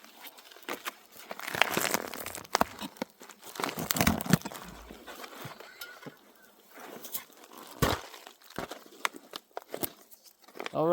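A food packet crinkles and tears as it is wrestled open outdoors at a forest campsite, with close, irregular rustling bursts and sharp crackles spread across the stretch, no talking.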